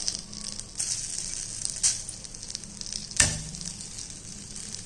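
Steamed dhokla tossed with poppy seeds fries in a pan with a soft, continuous sizzle, punctuated by a few sharp spoon knocks and scrapes against the metal.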